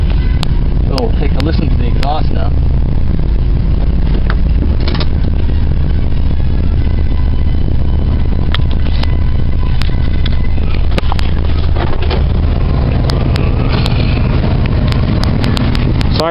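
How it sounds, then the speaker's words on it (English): Oldsmobile Vista Cruiser engine idling, a steady low exhaust rumble that runs close and constant throughout, with wind buffeting the microphone. "So we'll take a listen to the exhaust now."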